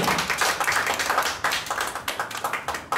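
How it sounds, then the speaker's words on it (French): A wedding congregation claps together in a dense, continuous patter, loud and close, with the rhythm becoming more uneven toward the end and no speech. "Amen, on acclame le Seigneur."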